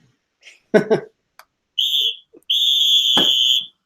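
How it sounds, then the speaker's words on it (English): Two sharp, loud whistle blasts, the second longer and held, with a short burst of crowd noise or voices just before, signaling halftime. "Blow the whistle."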